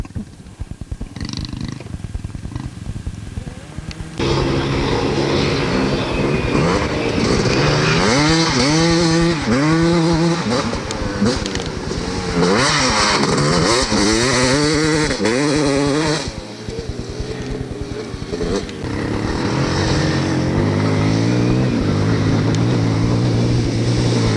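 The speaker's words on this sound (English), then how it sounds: "that Honda exhaust pipe don't really sound stock" A Honda dirt bike with a non-stock exhaust rumbles and revs hard in a 1990 hare scramble race at Hollister Hills, its exhaust note rising and falling through gear changes, loud and close for most of the stretch.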